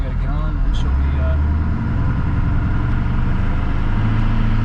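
A Ford OBS 7.3 diesel engine runs after its first start-up, a steady low clattering idle close by, with people talking over it.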